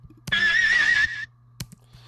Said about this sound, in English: It's this horse neigh sampled from "Insane in the Brain,"